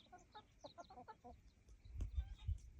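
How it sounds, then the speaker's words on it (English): Backyard chickens cluck and chatter close by in short, bright bursts, followed by a few low thumps near the end. "I'm getting talked to. My chickens are like, come on, bring the victuals."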